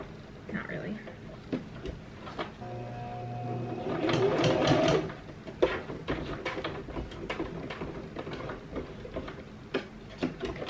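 A domestic sewing machine stitches fabric in bursts, a fast mechanical whir peaking midway, with ticking and clicks of the mechanism between runs and a voice talking over parts of it.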